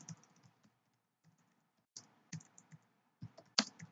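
Sparse, quiet clicks of typing on a computer keyboard, short bursts of keystrokes separated by pauses, ending in a slightly louder key press.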